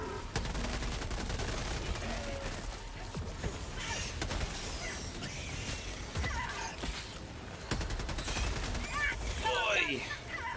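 Rifle fire in Helldivers 2, a dense, continuous rattle of rapid shots with chaotic battle noise and occasional sharper cracks running throughout.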